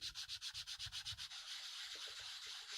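A small pad rubs over stamping foam in quick, rhythmic back-and-forth strokes that make a soft, close scratchy hiss. After a moment the strokes blur into a steadier rubbing sound.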